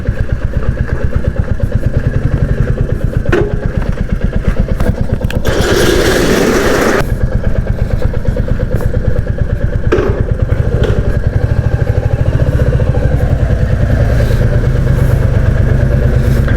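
A Royal Enfield Classic 350 BS6 motorcycle engine idles steadily and loud nearby while being parked, with a rhythmic putter, a brief rev or burst of hiss in the middle, and occasional clunks.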